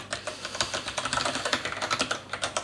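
Rapid, irregular clatter of keys on a computer keyboard as code is typed, close and fairly steady with quick bursts of keystrokes and no speech.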